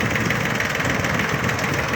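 A Yanmar F13D 13-horsepower Japanese mini tractor fitted with a soil tiller runs at a steady idle, a loud, close, continuous diesel clatter with an even knocking rhythm and no voices.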